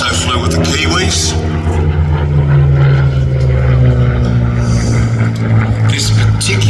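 A Spitfire flying at an air display at the Midlands Air Festival, its engine giving a loud, sustained drone under a commentator's voice.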